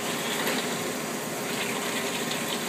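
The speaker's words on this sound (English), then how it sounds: "I'm doing this with really hot water right now, and I'm just liberally gonna let it run through" Hot water running steadily through the tube of a frozen yogurt machine during a deep clean, a continuous close rushing and gushing of liquid with no pauses and no talking.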